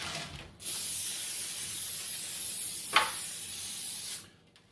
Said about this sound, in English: This is cooking spray.